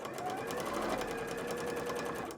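A sewing machine runs at a fast, even clatter throughout a short burst, stitching an insert into a cosplay bodice.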